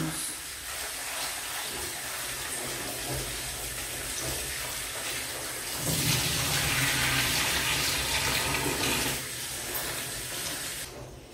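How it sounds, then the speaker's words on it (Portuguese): Tap water pours steadily over shredded raw cabbage in a bowl for a cabbage salad, a continuous close splashing hiss that swells louder midway, with no talking. "Agora eu vou lavar esse repolho."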